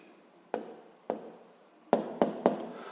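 A pen writing an answer by hand on paper, close up, heard as five separate scratching strokes with short pauses between them and no talking.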